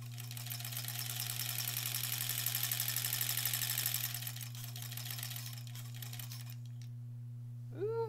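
A sewing machine stitches fabric for about four seconds with a rapid, steady mechanical buzz over a constant electrical hum, then stops, leaving only the hum and a brief sound at the end.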